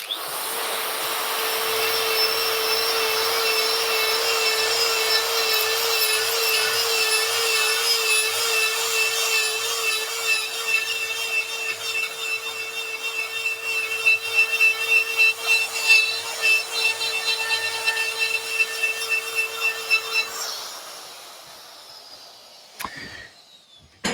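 A tungsten carbide burr on a rotary tool cuts into aluminium with a steady, loud high-pitched whine and grinding rasp that grows choppier toward the end before spinning down, with no voices.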